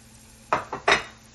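Sliced bitter gourd is tipped into a pan of sautéed onions and stirred, giving three quick close scrapes and clatters of a utensil against the pan, alone and fairly quiet.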